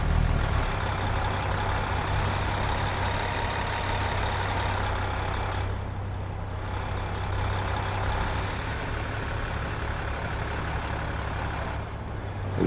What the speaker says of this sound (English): this is the Z mod sound with 7-inch pipes on her, and she barks